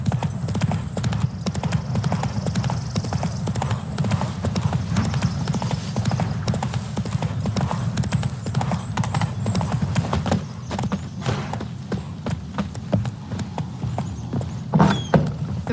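Roach, the horse in The Witcher 3: Wild Hunt, gallops with a steady, driving clip-clop of hooves throughout, loud and close, with a brief whinny near the end.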